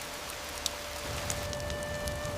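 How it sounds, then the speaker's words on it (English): A cold drizzle of rain falls with a steady, soft hiss and scattered patter of drops, continuous and even throughout, with no voices. "It started to rain. A cold drizzle that soaked right to the bone."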